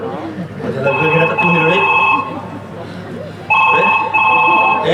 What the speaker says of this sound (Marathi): कोणती रिंग वाजत आहे काय काय कुठून आला फोन